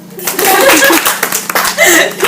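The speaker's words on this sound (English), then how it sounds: "You may clap." Scattered clapping from a small group mixes with voices and a bit of laughter, irregular and fairly close.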